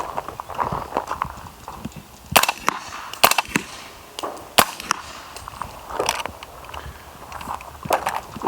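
A suppressed 300 BLK rifle fitted with a JP Silent Capture Spring fires several sharp, clipped shots at irregular intervals outdoors, with the bolt carrier cycling audible and no spring twang, amid low background noise.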